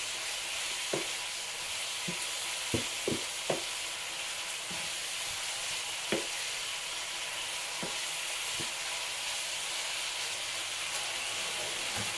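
Adobong sitaw, string beans in adobo sauce, sizzles steadily in oil in a pan while a spatula stirs it, giving scattered sharp taps and scrapes over the constant frying hiss.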